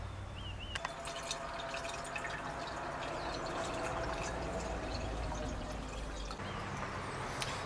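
Lye water made from wood ashes is poured into a stainless steel pot, giving a continuous splashing, trickling flow with faint drips that runs steadily for several seconds, close and fairly quiet, with no talking.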